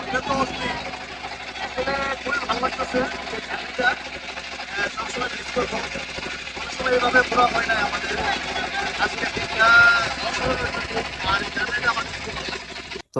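A boat engine drones steadily through a river boat trip, holding a continuous mid-level hum under people talking nearby.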